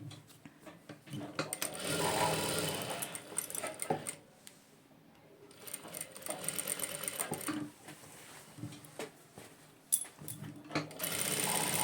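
A sewing machine stitches a blouse belt strip, giving a steady, close whirring run broken by short pauses and then starting again, with light handling clicks between the runs.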